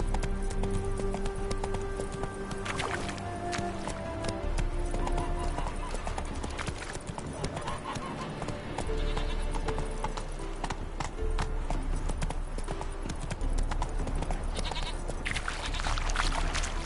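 Hooves of Geralt's horse Roach in Witcher 3, a steady clip-clop running through the whole passage over a busy game backdrop of ambient sound and music.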